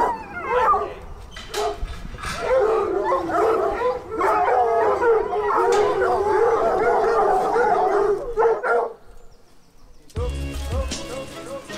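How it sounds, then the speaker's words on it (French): A pack of hunting hounds bays and howls together at the end of a hunt with hounds, a loud overlapping chorus that fades briefly before a final burst. "la chasse est terminée là, ils font l'appel des chiens"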